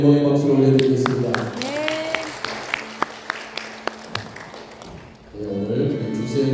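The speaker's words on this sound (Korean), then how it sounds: "하나님께 영광의 박수를 올려드리겠습니다." A church congregation at a Sunday worship service claps in steady applause between stretches of sung music and voices, with a few sharp, distinct claps standing out as the clapping fades before the singing returns.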